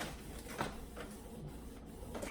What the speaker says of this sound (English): I just use a basic, regular, everyday printer